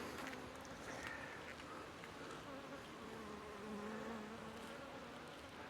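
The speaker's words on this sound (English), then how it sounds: "but there is bees on every frame." Honey bees fill an open beehive with a faint, continuous buzzing hum that holds steady throughout.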